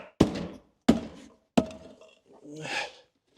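Three sharp, loud thunks about two-thirds of a second apart as a Lincoln MKZ or Ford Fusion interior door handle part is banged into place, followed by a brief rustle.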